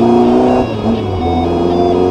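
A 1988 Volkswagen Passat GTS Pointer engine runs steadily with a loud, sustained tone throughout, rising slightly in pitch midway as if briefly revved, with no speech over it.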